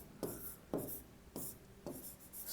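Chalk or marker strokes on a classroom board, four quick scraping bursts in an even rhythm while a definition is written, close but faint, with no talking.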